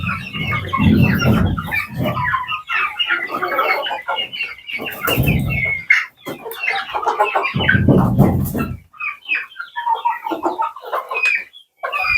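Young Andijan black chickens, 94 days old, cluck and chatter close by in a busy overlapping flock, with bursts of louder calls and short pauses and no talking.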